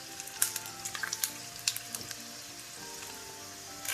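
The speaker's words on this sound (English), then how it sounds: "our garlic is nicely frying" Chopped garlic frying in about four tablespoons of hot oil for a Hyderabadi-style khatti dal, a steady close sizzle with scattered crackling pops, loudest early and easing into an even hiss.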